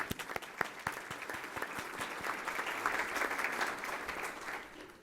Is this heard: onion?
no